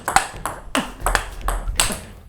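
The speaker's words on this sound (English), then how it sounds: "It's a nice firm contact as I hit the ball, good crisp feeling, and even the sound is a nice sound." A STIGA Perform plastic ABS table tennis ball is blocked backhand, giving a steady run of crisp, light pings as it strikes the paddle and the table at close range.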